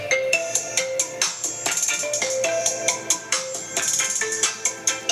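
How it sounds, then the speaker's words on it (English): A phone ringtone plays loud and close: a bright, repeating electronic melody with a steady rhythmic beat and no talking over it. "Yeah, that's my ringtone."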